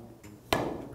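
A billiard cue strikes the ball once with a forceful, tight grip, giving a single sharp, close clack midway through a quiet moment.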